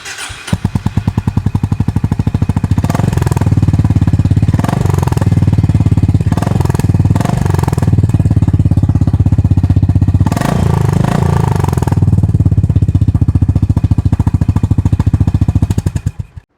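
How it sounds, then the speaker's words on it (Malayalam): Honda CB350 RS motorcycle exhaust note, a loud, close, steady thumping single-cylinder idle with rapid rhythmic pulses and a few short throttle blips, running about sixteen seconds before cutting off. "ഇനി നമുക്ക് ഈ വാഹനത്തിൻ്റെ എക്സോസ്റ്റ് നോട്ട് എങ്ങനെയാണെന്ന് നോക്കാം."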